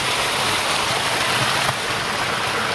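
Natural spring water flows steadily outdoors, a constant broadband rush of running water that stays even and fairly loud throughout, with no voices.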